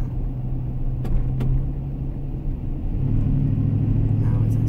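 A car coasting at low speed, roughly 20 to 25 miles per hour, with a steady low road rumble and engine drone inside the cabin and a couple of faint clicks.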